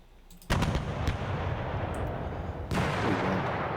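Artillery bombardment in Panzer Campaigns: Normandy '44, the video game: a sudden loud blast opens a continuous rumbling barrage, and a second heavy impact swells it near the end, with no voices.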